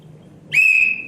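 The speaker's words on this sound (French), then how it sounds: "je viens de me faire siffler une faute" A referee's whistle gives a single sharp, shrill blast of about half a second during a match, loud and alone with no talk over it.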